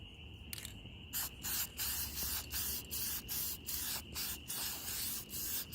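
Spray can applying a third light coat of paint to windshield wiper arms, heard as a series of about nine short hissing bursts in a steady rhythm, close and fairly loud, with no talking.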